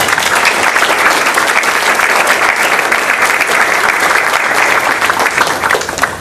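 An audience applauding to welcome Ralph Nader at a New York book talk, dense steady clapping from a large crowd, loud and sustained throughout.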